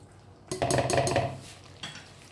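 Broken wheat frying in ghee and stirred in a pan, a burst of scraping and clinking strokes from the spoon against the metal, then a softer stroke after a pause.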